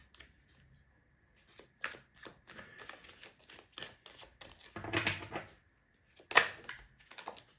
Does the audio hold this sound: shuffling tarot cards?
yes